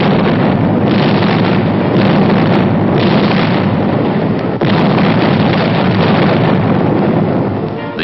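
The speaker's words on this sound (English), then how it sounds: "the enemy was kept off balance with our artillery fire." Artillery fire from a World War II invasion of Southern France, heard on archival war footage as a loud, dense, continuous rumble of booms and blasts with a steady roar and no clear pauses.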